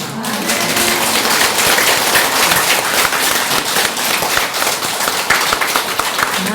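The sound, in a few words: congregation applause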